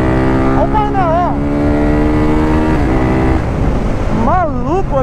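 A modified Honda CG 150 motorcycle rides along a city avenue, its engine holding a loud, steady drone close by while a voice talks over it in bursts.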